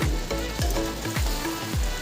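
Pointed gourd sizzles and crackles in a small hot frying pan, a constant frying hiss broken by a few low swooping thumps.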